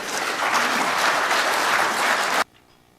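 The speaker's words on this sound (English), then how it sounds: "give a big round of applause for Mike" A conference audience gives a speaker a round of applause, loud continuous clapping that stops abruptly after about two and a half seconds, leaving near silence.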